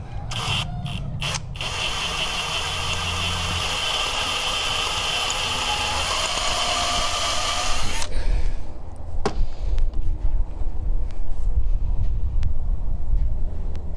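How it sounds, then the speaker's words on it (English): Power drill boring into a broken bolt deep in a recessed hole, a steady loud whine running continuously for about eight seconds before cutting off, followed by quieter mechanical clicks and handling noise. "Drill down a little bit more."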